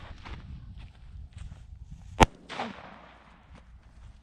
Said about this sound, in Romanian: Păi tu a dat o bombă pe mașină.